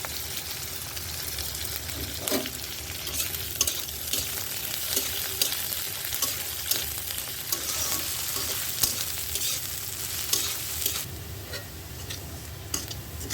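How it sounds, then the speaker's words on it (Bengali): Onions and dried red chillies frying with nigella seeds in hot oil for taro leaf greens, a dense, continuous crackling sizzle that stays loud and close throughout, with faint utensil clinks now and then and no voices. "শাকের জন্য তেল গরম করে নিচ্ছি কচুর শাকের জন্য এখানে কালি জিরা দিয়ে দিলাম পেঁয়াজ আর শুকনা মরিচ একসাথে দিলাম"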